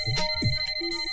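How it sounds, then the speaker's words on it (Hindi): A phone rings with a steady electronic tone, a short repeated burst standing clearly over a background of low voices and rumble. "मदन प्लीज जाके फोन देखना प्लीज"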